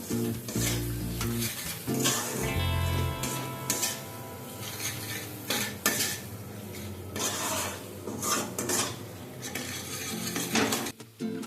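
Masala spices with ground coriander and salt stir-fried in a pan for a duck egg curry: metal spatula clatters and scrapes against the pan over a faint sizzle, with uneven, busy stirring close by.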